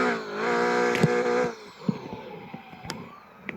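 A car engine revs in a Southwest Florida driving video game, its pitch sliding up and down through gear changes before dropping away to quieter clicks and taps.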